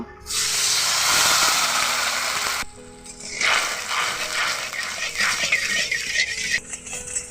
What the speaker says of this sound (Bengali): এখানে বলক এসে গেছে